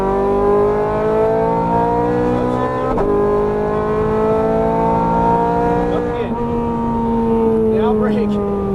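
A Ferrari 430 Scuderia on a track, its engine revving hard and loud with strong harmonic tones that climb under throttle, briefly dip at shifts and build again.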